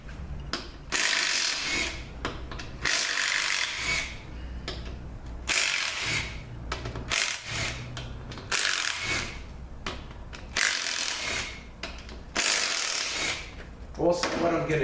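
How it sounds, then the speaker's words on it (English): Bolts being backed out of the pump on a dirty Ford 4R75E automatic transmission with a 10 mm ratchet, giving repeated bursts of clicking and metallic rubbing in uneven rhythm, close and fairly loud. "So we're going to take the pump bolts out"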